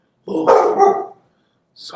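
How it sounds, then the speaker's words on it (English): A dog barks in a short burst of several loud, close yelps, then starts up again after a pause, while someone speaks in the foreground. "that's my dog"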